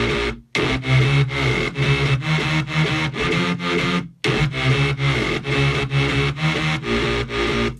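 Synth bass processed with overdrive and guitar amps, high-cut around 5K, plays a loud distorted riff in repeated sustained notes with two brief dropouts, no voices.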